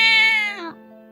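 An 18-year-old calico cat, white with brown and black patches, gives one long, loud meow close up that drops in pitch and trails off, alone in a quiet room.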